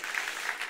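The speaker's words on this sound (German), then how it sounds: "Sehr gut, Applaus für ihn." Brief, fairly soft burst of audience applause at a leadership lecture, an even patter of many hands lasting under a second.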